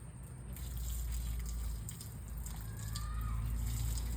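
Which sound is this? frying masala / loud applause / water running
water running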